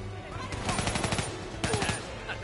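Rapid automatic gunfire from a weapon in Black Ops 3, two quick bursts of loud, closely spaced shots against background game noise.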